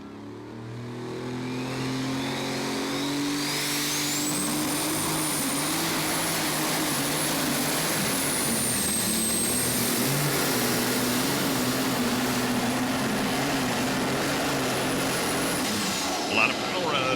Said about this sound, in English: A lot of power out of McCormick tractor.